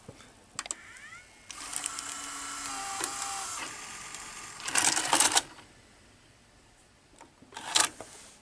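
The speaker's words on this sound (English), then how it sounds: "And now we will stop and eject." A Sony EV-S2000 Hi8 VCR's small tape mechanism whirs, clicks and grinds through a stop and eject cycle, with a loud mechanical burst midway and a final clunk near the end.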